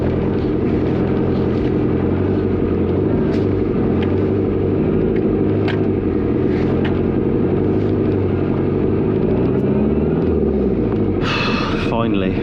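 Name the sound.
4wd vehicle manoeuvring out of snow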